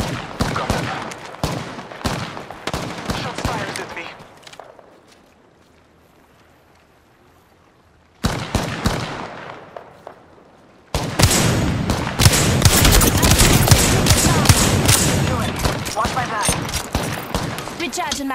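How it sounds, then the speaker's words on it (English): Gunfire in Apex Legends during a Lifeline match: loud bursts of rapid automatic shots with sharp cracks, breaking off into near silence, then resuming as dense, sustained firing, with voice lines heard between bursts. "Shots fired at me."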